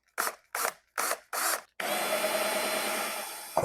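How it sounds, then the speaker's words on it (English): A power drill bores through a 2-gallon plastic bucket, cutting a hole for 1/2 inch PVC pipe: four short close bursts of drilling, then one long sustained run that ends abruptly. "we're going to drill a hole in the top and the bottom for the 1/2 inch PVC"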